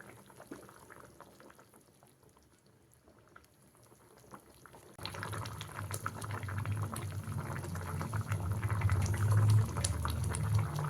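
Egg curry gravy simmering uncovered in a pot: a quiet bubbling start, then a sudden swell into a loud, steady rolling boil with crackling bursts that grows stronger toward the end.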